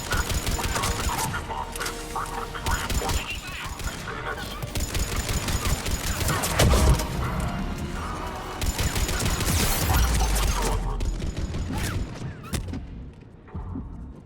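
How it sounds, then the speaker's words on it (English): Dense bursts of sci-fi weapon fire and explosions fill a Mass Effect 3 battle scene, loud and continuous, with voiced combat shouts layered over the rattling gunfire. "Under heavy attack! Taking fire!"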